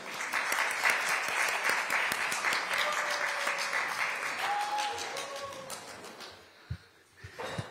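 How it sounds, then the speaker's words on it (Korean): Steady audience applause at a Korean lawmaker's book launch event, a dense wash of clapping that fades out toward the end with a few scattered late claps. "힘찬 박수로 맞이해 주시기 바랍니다."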